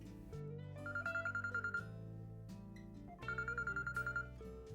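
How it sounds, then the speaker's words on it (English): An unanswered telephone rings in two bursts of rapid electronic trilling, quiet and set over a low sustained musical drone. "Yeah, still not answering the phone."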